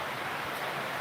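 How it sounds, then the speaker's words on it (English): Heavy rain pours down in a dense, unbroken hiss, loud and close, with no voices over it. "Okay, you can hear the rain. It's pouring down now."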